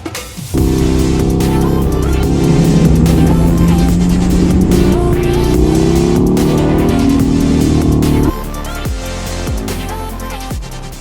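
Loud KTM Super Duke sport motorcycle engine revving hard, pitch climbing and dropping through several throttle blips, close and dominating, then sharp falling revs near the end.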